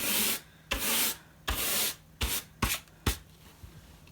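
Scraping and rubbing across a diamond painting in a single direction, heard as several close, gritty strokes of about half a second each that grow shorter and quicker toward the end, with no voices.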